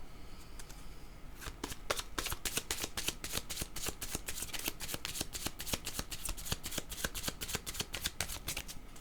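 Tarot cards are shuffled close up, a quiet rapid run of crisp riffling flicks in steady rhythm after a brief lead-in, with no talking.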